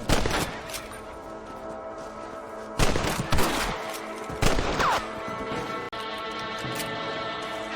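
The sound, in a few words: rifle gunshots hunting rabbits in video game Red Dead Redemption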